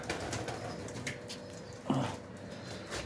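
Domestic pigeons in a loft giving a short low coo amid a noisy, rustling background, fairly close but brief.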